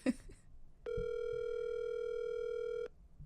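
A telephone call being placed gives a single steady electronic tone lasting about two seconds, clean and even, after brief soft background sounds.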